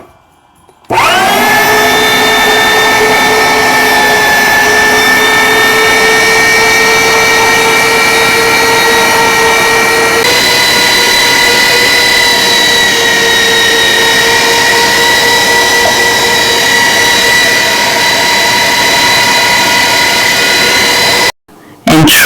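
Electric grinding machine running steadily while it grinds cocoyam for Cameroonian achu, a loud close droning whine that holds for about twenty seconds with a slight shift in pitch midway, then switches off.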